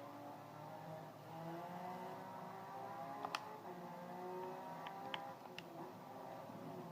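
A Porsche 911 992 GT3 R race car engine heard from onboard: a steady, muffled high-revving drone that climbs in pitch through a gear change, with a few faint ticks over it.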